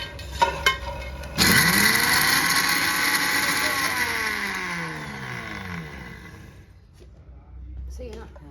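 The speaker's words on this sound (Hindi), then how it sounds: "तो यो भाई ताल मखाने हम इसमें डाल लेंगे, और इसको दरदरा पीस लेंगे" A grinder coarsely grinds fox nuts (makhana) for laddoos, a loud steady whirring motor that starts abruptly and runs several seconds before winding down, with a brief sound and voice beforehand.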